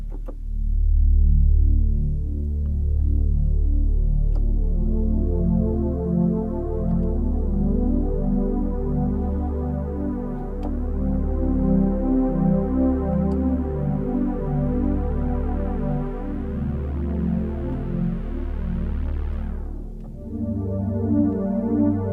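A Roland JX-8P synthesizer plays a soundtrack patch, holding sustained, layered chords that shift slowly over a steady low drone, with a bright swelling sweep building and cutting off near the end.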